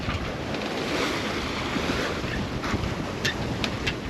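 Steady strong wind blows at sea aboard a sailboat, with constant rushing noise mixed with the wash of waves and sea spray, loud and unbroken throughout.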